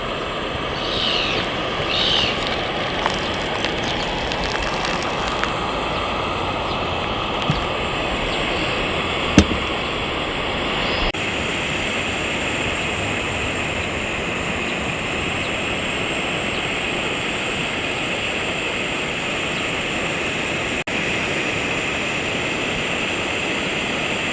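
An Optimus 199 camping stove burns with a steady, loud roaring hiss that holds unbroken throughout, with a couple of faint clicks early on.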